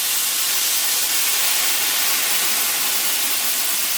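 Sherry sizzles in a hot pan while a pink vodka sauce for pasta cooks. A loud, steady hiss runs unbroken throughout, with no voices over it.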